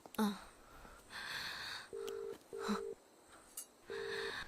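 Three short electronic beeps from a phone keypad being dialed, evenly spaced after a brief rustle, quiet and close with no talking.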